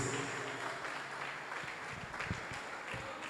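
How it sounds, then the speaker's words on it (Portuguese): A church congregation at a prosperity seminar applauds in praise, a continuous, even wash of many hands clapping at a moderate distance, fairly quiet. "Vamos aplaudir o Senhor Jesus"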